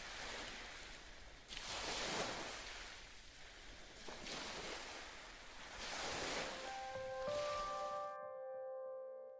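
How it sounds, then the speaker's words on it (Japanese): Ocean surf from a visual novel game rolls in as steady, full swells that rise and fall every couple of seconds, loud and close, before cutting to a brief held electronic tone at the end. "波の音がずっと大きく聞こえた。"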